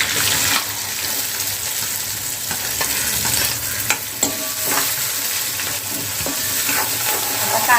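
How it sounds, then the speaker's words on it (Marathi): Chopped onion fries loudly in a pan with already-fried green chili for a bottle gourd and chana dal dish, a dense, steady sizzle close up with occasional spatula scrapes and taps. "कांदा जो आहे ना आपला तो चांगला असा ब्राऊन कलर होईपर्यंत आपल्याला चांगला फ्राय करून घ्यायचा आहे"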